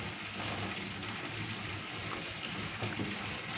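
Water streams steadily into a container to dissolve milk powder while cooking, a continuous close gushing pour that stays even throughout, with no talk.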